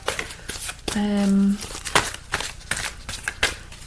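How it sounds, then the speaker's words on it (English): Healing with Your Angels oracle cards by Doreen Virtue being shuffled, quick riffling and flicking bursts close by, broken up by someone talking. "let's do a little shuffle on the Healing with Your Angels cards by Doreen Virtue"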